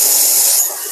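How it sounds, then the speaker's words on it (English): Steam wand on a Nook Mini dual boiler espresso machine with rotary pump blasts a loud, close, steady hiss that eases slightly near the end. "the steam is actually very powerful"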